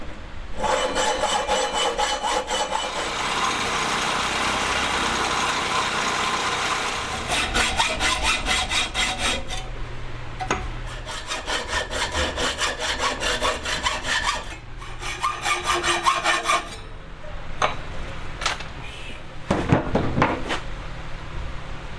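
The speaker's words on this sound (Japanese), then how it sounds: "ではあとは湯道を切っていきます。" A hand saw cuts the sprues off a sand-cast aluminium cylinder head cover made for a four-cylinder Honda Monkey engine, with loud, close, rhythmic back-and-forth rasping strokes in bursts separated by short pauses and a few knocks.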